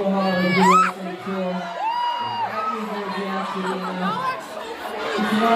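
A concert crowd at a New Jersey tour stop cheers, whoops and shouts in a steady roar, with high excited voices rising over the din and a bright yell near the start.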